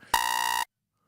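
A quiz game timer ends with a loud harsh electronic buzzer, one sustained blast of about half a second that cuts off abruptly into silence.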